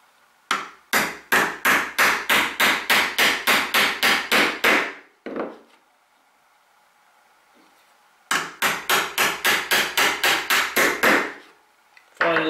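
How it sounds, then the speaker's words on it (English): A mallet drives a chisel into wood while a mortise is chopped out for a stretcher, in two bursts of about a dozen sharp, evenly spaced, loud blows with a quiet pause between them and no talking. "So now I can just cut out towards the ends of the mortise."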